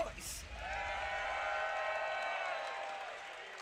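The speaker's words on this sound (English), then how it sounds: "Yo, Combo Breaker, if you would like DRXD to take it, make some noise" A tournament crowd at the Combo Breaker fighting-game event roars and cheers in one sustained, loud swell of voices that holds for a few seconds and then tapers slightly.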